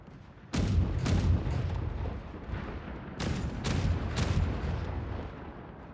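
Ship turret cannons in a naval video game fire one at a time: several booming blasts come in two quick clusters, loud and close, each leaving a rumbling decay.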